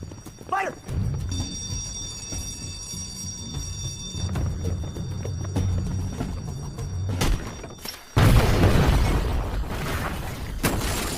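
An improvised bomb explodes in a film scene with a sudden, loud burst of blast noise. A rush of debris follows it, after a stretch of quieter rumble and thuds.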